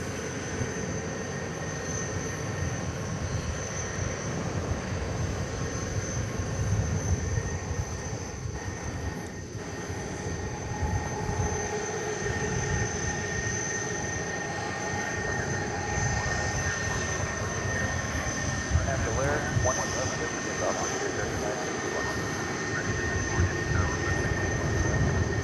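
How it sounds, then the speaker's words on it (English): A Frontier Airbus A320 at DFW Airport at night, a continuous jet engine roar with steady whining tones, moderately loud and unbroken for the whole stretch, with no talking. "here's Frontier Flight 3971, an Airbus A320 with Rio the Jackery on the tail, headed to Phoenix in the AZ"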